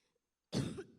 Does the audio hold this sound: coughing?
yes